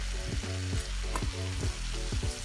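Garlic cloves sizzling in a pan for homemade chicken fettuccine alfredo, a steady close crackle broken by a few rhythmic scraping stirs of a utensil.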